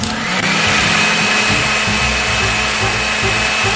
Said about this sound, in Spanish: es la licuadora